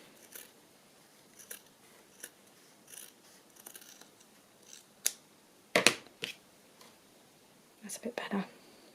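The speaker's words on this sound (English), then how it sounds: "I might just trim it a bit. Just trim it off this side a little bit." Scissors trim the edge of paper for a vintage travel journal, a few sharp close snips spaced apart, with quiet whispered talk in between.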